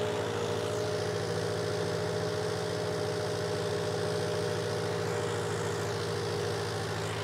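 A Mahindra Arjun Ultra 1 605 DI tractor's diesel engine, with a modified turbo diesel pump, runs with a steady, even rumble that stays constant and close throughout, with no talking.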